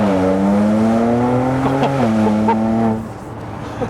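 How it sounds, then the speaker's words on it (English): A tuned 400 BHP BMW Z4 35i accelerates hard with a loud, rising exhaust note and brief wheel spin, the engine tone climbing then cutting off as it fades away. "What a nice tone to the exhaust. And the pops and bangs, wow."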